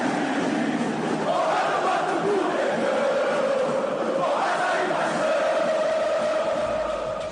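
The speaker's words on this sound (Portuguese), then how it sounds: "no minuto 10 que a gente toca a música dos Garotos do Ninho" Football supporters in a stadium sing a chant together, a sustained crowd melody with rising and falling phrases carried over a steady background roar.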